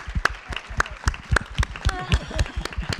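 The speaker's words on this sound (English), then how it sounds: "let's give a round of applause for our panelists" Applause for panelists at a networking conference panel, sparse, distinct claps from a smallish audience with brief background voices mixed in.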